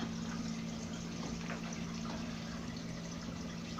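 A submerged pump hums steadily inside a roughly 1,700-liter concrete sump reservoir of an aquaponics system, a constant low drone beneath faint trickling and splashing water, with no voices.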